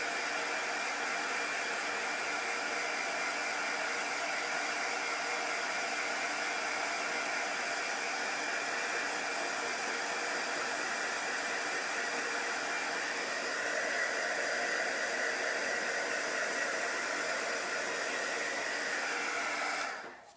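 A hair dryer blows steadily and loudly on a chalk paste craft project with a waxed shiplap-look finish, running alone as a broad, continuous whoosh for about twenty seconds before cutting off at the end.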